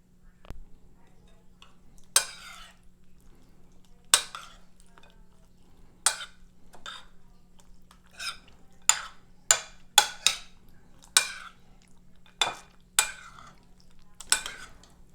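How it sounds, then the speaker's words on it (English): A spoon stirs figs and raisins in a pan for a medieval fig dessert, sharp scrapes and clinks sounding one after another at irregular intervals against a faint steady hum. "Stir that up"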